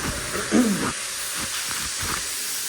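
A cruise ship spa steam room gives off a steady, broad hiss of steam that fills the space, with a brief louder surge early on and faint low thumps underneath.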